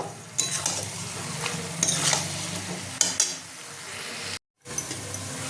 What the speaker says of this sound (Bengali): ধনেপাতা কুচিটা দিয়ে একটু ভালো করে আমি নেড়ে নেব